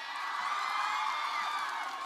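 An audience at a stage show cheers, whoops and claps to welcome a singer, a dense, steady roar of crowd noise that stays fairly quiet and distant throughout.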